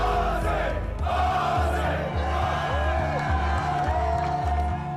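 Large rioting crowd at Cronulla beach in Australia: a loud, dense mass of shouting and rhythmic chanting with pulsing low surges that fill the whole stretch, close and unbroken.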